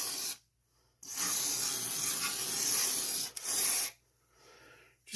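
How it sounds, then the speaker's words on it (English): WD-40 lubricant sprays from an aerosol can onto an old part from a 1976 Wizard tiller with a Briggs and Stratton 5 hp engine: a long, close, loud hissing burst, then a brief second squirt after a short gap. "Use a little WD-40. We're going to squirt it around."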